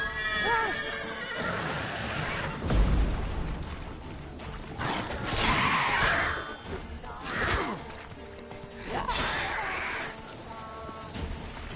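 In The Witcher 3 video game, the horse Roach runs and neighs loudly and close, with whinnies ringing out over pounding hooves, crashing game effects and a voice speaking.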